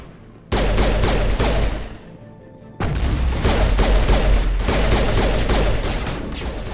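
Gunfire rattles through a firefight in the video game Mass Effect on Insanity difficulty, loud and dense in two sustained bursts separated by a brief lull, with booming impacts mixed in and no talk.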